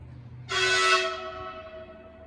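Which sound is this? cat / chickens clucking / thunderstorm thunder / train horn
train horn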